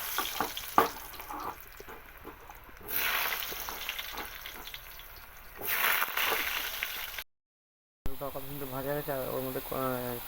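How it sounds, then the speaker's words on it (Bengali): Potatoes fry in a pan with whole cumin seeds, a soft sizzling hiss that swells and fades in bursts, then a brief silence before a voice talks over the cooking. "আলুগুলো দিয়ে দেবো আলুগুলো ভেজে নেবো"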